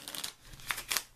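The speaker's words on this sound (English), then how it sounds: "I'm taking the deck in hand and I'm going to be shuffling the cards" A Lenormand card deck is shuffled by hand, giving quiet, close crisp riffles and papery flicks in a few short bursts, with no voices.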